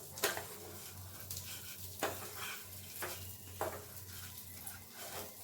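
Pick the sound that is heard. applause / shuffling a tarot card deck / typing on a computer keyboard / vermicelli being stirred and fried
vermicelli being stirred and fried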